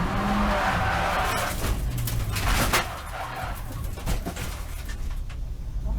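A Mazda race car braking hard at Cadwell Park, where loud engine and road noise break into scraping, skidding tire sounds and bumpy thuds, heard close up from on board.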